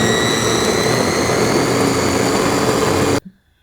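A kitchen blender grinding dry powder for a tofu-based cabbage dressing, a loud, constant high-speed whir with a steady motor whine that runs evenly, then stops abruptly and winds down into silence.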